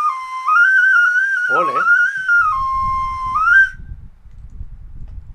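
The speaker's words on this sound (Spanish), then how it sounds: "Eso es una ocarina argentina que tengo" A carved Argentine ocarina shaped like a face plays a clear, loud whistling melody with a brief warble in the middle. It stops suddenly, and then a voice speaks over low room noise.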